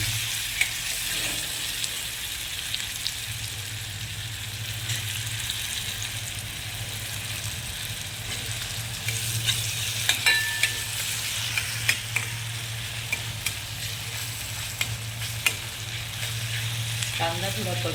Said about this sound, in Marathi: आता मी त्याच्यात कांदा टाकून देणार आहे कच्चायला.